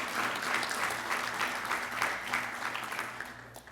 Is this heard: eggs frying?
no